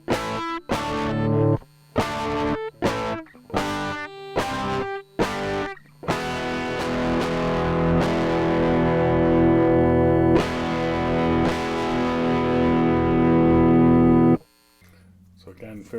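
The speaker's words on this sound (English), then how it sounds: "So let's turn the distortion up to halfway here." A Canadian guitar effects pedal has its distortion set to halfway as a distorted electric guitar plays several short chord stabs, then a sustained ringing chord that builds and cuts off abruptly.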